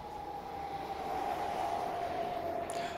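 A BR 420 S-Bahn electric train in Transport Fever 2 runs with a steady whining motor tone over continuous rolling rumble, sustained and even throughout, with no talk.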